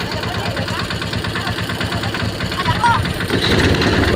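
A tractor engine runs with a loud, steady mechanical chugging that swells slightly near the end, close by.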